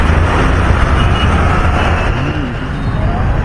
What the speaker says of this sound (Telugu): ఎంత ట్రాఫిక్